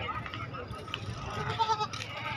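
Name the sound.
goat bleating at a goat market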